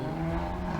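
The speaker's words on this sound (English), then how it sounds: "you'll have to excuse the traffic." Road traffic drones steadily nearby as a continuous low hum of passing vehicles with no distinct events.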